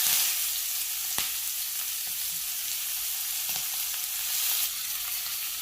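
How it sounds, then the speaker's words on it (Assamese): Onions dropped into hot oil left from frying fish, giving a steady, loud sizzle that hisses on without pause, with a few faint clinks of a utensil and no talking. "মাছ ভজা তেলতে মই পিঁয়াজখিনি দি দিম।"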